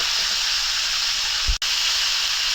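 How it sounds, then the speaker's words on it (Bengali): Potatoes fry in hot oil in a pan after fish, a loud, continuous bright hiss with one brief dip and a soft knock midway. "বন্ধুরা মাছ ভাজা শেষ, আলুটা দিয়ে দিলাম। আলুটা একটু হালকা ভাজা নিব।"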